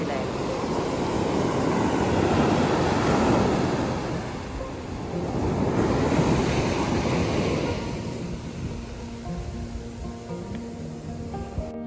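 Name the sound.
sea waves on the shore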